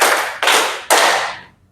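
Three sharp group hand claps in a classroom clapping game, evenly spaced and loud, each ringing off briefly in the room with no talk over them.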